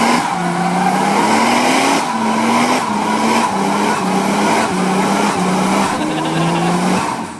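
A Toyota six-cylinder twin-turbo car engine hums steadily at moderate revs, loud and close, with small rises in pitch as it shifts and pulls.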